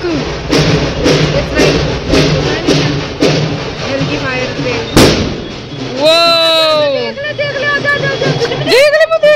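Firecrackers burst in rapid loud thuds and bangs during Dussehra celebrations near houses, followed by whistling, rising rockets, while people talk excitedly throughout.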